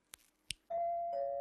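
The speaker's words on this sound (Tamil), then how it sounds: "எங்க வீட்டு காலிங் பெல் டிங் டாங் டிங் டாங் தான் அடிக்கும்." Household calling bell ringing a sustained two-tone ding-dong, preceded by a couple of sharp clicks as the button is pressed, clear and close in a quiet room.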